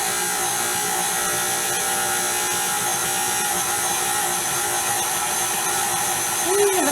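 Stand mixer running slowly as flour is worked into kitchen sink cookie dough, a steady close motor drone with a faint whine throughout and no clear pauses.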